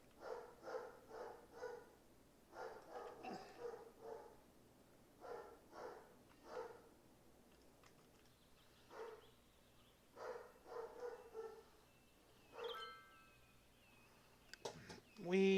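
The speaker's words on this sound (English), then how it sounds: "Sorry about the dogs, guys. I apologize about the dogs." Indoor dogs bark in repeated irregular bursts, some clustered and some spaced by pauses, fairly faint, with a short squeaky yip near the end.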